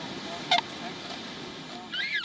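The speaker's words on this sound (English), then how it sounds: "including these swans at a canal in Bruges" Swans on a canal in Bruges give a few nasal honks, a sharp one early and a longer call near the end, over a steady outdoor background with no talk.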